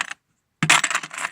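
Brass keys and lock sets from big commercial door locks clink and jingle in a container, a short metallic rattle, a pause of silence, then a louder burst of close, bright jangling.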